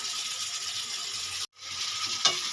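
Fennel and ginger paste with turmeric fries for a Bengali catla fish curry, a steady close sizzle broken by a brief silence and a sharp clink of a spoon against the pan.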